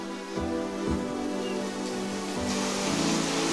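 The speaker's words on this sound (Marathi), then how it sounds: "ह्या साईडने खूप दिसतो बघा पाऊस." Heavy midday rain falling in calm, windless air, heard from a house gallery as a constant broadband hiss with a few soft thuds and no voices.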